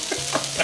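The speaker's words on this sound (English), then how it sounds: "So it's starting to crisp up pretty nicely, so I'm gonna fry it a little bit more" Corned beef hash, starting to crisp up, frying in a pan: a short burst of soft sizzling with a few stirring scrapes, close and fairly quiet.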